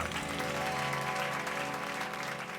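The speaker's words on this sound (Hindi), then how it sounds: "तो इस बचपन के लिए बजाइए एक बार जोरदार तालियां।" Loud applause at a Children's Day celebration in a housing society, a dense wash of clapping that holds steady over sustained tonal music in the background.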